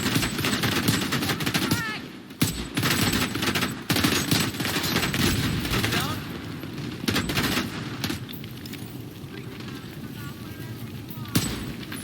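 Sustained automatic gunfire from a video game fills the whole stretch, dense bursts of shots layered over booms and a steady loud combat din, playing as a tanky medic character.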